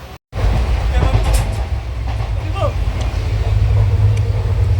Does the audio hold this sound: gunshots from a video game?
no